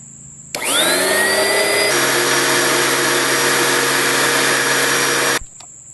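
An Oreck XL commercial upright vacuum cleaner with a clogged intake switches on with a rising whine, then holds a loud, steady motor roar for several seconds before cutting off abruptly.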